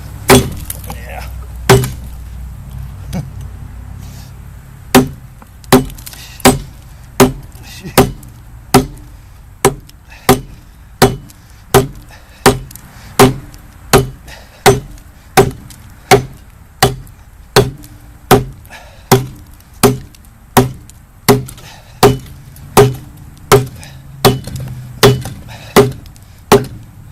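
An axe chopping oak, a long run of sharp, evenly spaced wooden thwacks, roughly one a second, loud and close, with a few quieter gaps early on and no talk over the blows.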